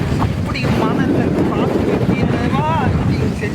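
Strong gusty wind buffets the microphone outdoors during kite flying, blowing dust, a constant loud roar with voices faintly underneath.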